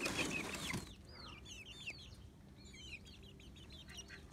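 Plymouth Rock chickens, a male and female pair on a rooftop farm, give soft clucks and chirpy calls, with a louder burst at the start and then light, scattered calls over steady background noise.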